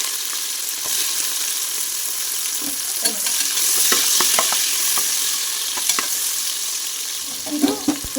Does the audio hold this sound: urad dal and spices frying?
yes